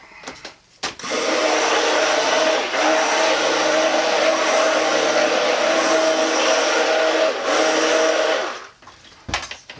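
Stick blender whirring through lavender soap batter in a pot, a loud continuous motor drone that starts abruptly, runs for about eight seconds with brief dips, then cuts off.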